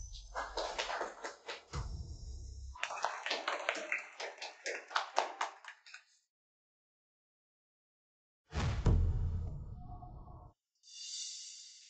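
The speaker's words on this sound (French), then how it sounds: "applaudissons" Children clap in a classroom to congratulate a classmate, a quiet flurry of sharp hand claps lasting several seconds, then silence, then a second short burst of clapping and shuffling.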